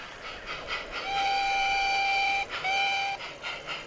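A loaded model light railway sand train rumbles steadily into a station while a shrill whistle sounds twice, the second blast shorter, with no talking.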